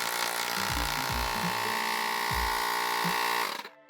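A Ryseab portable tire compressor runs at close range, a steady buzzing motor hum with a few low pulsing thumps from the pump before it cuts off abruptly near the end.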